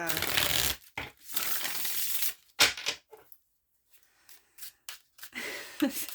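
Tarot cards are shuffled up close in quick riffling bursts that stop and start, with quieter gaps between them.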